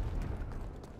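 Artillery fire support lands in the online shooter Dirty Bomb: a sustained, loud rumbling blast filling the whole second with dense low-end booming, no speech over it.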